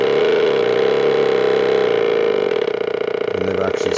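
Motorcycle engine imitation from an electronic sound generator played through an amp, a loud continuous buzzing drone with a slight wavering vibrato that shifts and flutters near the end.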